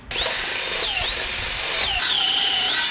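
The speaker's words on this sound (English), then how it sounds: "So after drilling all these holes side by side close together like this" A power drill runs continuously for about three seconds, boring closely spaced holes side by side in a motorcycle rear-shock part, its whining pitch dipping briefly about once a second as the bit bites and then recovering.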